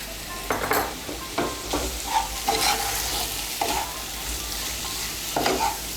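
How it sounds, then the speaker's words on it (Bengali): A spoon stirs sugar into a pointed gourd and potato curry in a hot pan, with sizzling frying underneath and repeated scraping strokes at an uneven rhythm, close and clear with no talk. "চিনিটাও মিশিয়ে নেব ভালো করে।"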